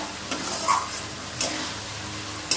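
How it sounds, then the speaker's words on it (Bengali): Potatoes and spice paste sautéing in oil in a pan for a prawn curry, a steady close sizzle broken by a few sharp spoon knocks and scrapes against the pan. "এর সঙ্গে আলুর সঙ্গে আমি ভালো করে কষিয়ে নেব"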